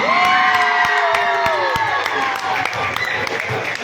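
Loud crowd applause and cheering at a national throwball championship prize ceremony, celebrating the Karnataka sub-junior boys' team; dense clapping with shouts and whoops, a voice rising over the din and fading.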